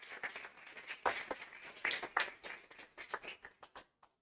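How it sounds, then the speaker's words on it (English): An audience gives a round of applause, a burst of clapping that rises and falls in uneven waves over a few seconds, moderately close, then cuts off into silence. "So can we give a round of applause to them for the wonderful service?"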